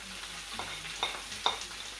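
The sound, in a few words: onion frying in oil left over from browned chicken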